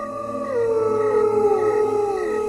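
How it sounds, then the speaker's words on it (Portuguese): A single dog lets out a long, drawn-out howl that slides downward in pitch, close and clear with nothing else around it. "Uivo."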